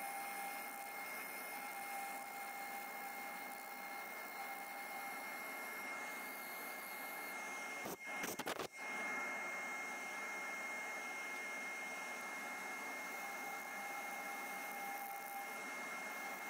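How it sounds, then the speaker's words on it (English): An Easy Wood Tools carbide finisher cuts cherry wood spinning on a lathe, a faint, steady whirring drone with a short interruption in the middle. "It's the carbide finisher from Easy Wood Tools."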